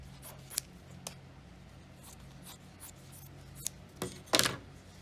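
Scissors cutting through denim jean fabric folded in several layers, a few sparse crunchy snips and clicks, the last ones louder and closer, over a quiet background.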